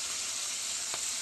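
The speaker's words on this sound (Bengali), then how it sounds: "দেখুন মাছ ভাজা" Bhola fish frying in hot oil, a steady close sizzling hiss with a faint brief pop near the end, no talking.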